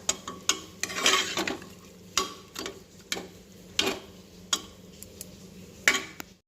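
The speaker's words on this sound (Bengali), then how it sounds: "জলখাবারের জন্য এখানে একটু আলু চচ্চড়ি বসিয়ে দিলাম।" White potato chorchori cooking in a pan, with a steady sizzle under repeated scraping stirs of a utensil at an uneven, fairly regular pace, and no voices.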